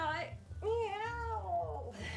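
A person imitates a cat, giving one drawn-out, rising and falling meow lasting over a second, close and clear, with short voiced sounds just before and after.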